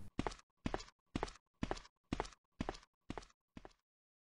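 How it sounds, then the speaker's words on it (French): Eight evenly spaced footsteps, close and distinct, walking at a steady pace in a drama sound effect, with no voices and no clear door sound afterward. "Bruit de pas, puis ouverture d'une porte, et il sort."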